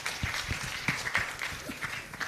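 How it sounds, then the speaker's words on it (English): An audience at an aviation forum session applauds its panelists, a steady patter of many hands clapping through the whole stretch, filling the hall evenly. "I think you give a round of applause to our panelists."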